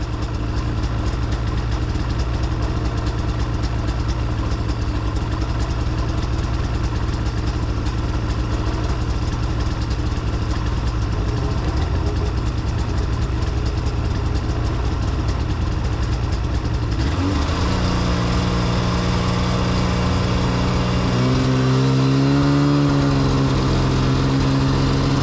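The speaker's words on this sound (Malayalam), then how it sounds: "ഇപ്പം നിങ്ങൾ കേട്ടത് ഒരു 2-stroke 600 CC എഞ്ചിൻ്റെ സൗണ്ടാണ്." An Arctic Cat 6000 RS snowmobile with a 2-stroke 600 cc engine idles loudly and steadily up close, then its pitch shifts and rises as the throttle is worked near the end.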